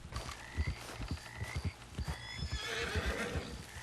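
A horse in the video game Red Dead Redemption 2 whinnies and snorts amid clip-clopping hooves, the neigh rising over a busy bed of rhythmic hoofbeats and ambient game noise, with no talking.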